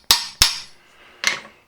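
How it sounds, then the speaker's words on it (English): Three sharp metallic taps of a hammer on a transfer punch marking aluminium in a machine shop, two quick strikes then a third after a pause, close and clear with short ringing decay. "Transfer punch just to put a nice little pot mark in there."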